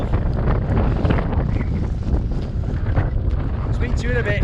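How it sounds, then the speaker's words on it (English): Strong autumn wind buffets a camera microphone on a wild camp in the Lake District, a loud, constant rumbling roar that fills the whole stretch, with faint voices and higher whistling near the end. "And this is quite windy"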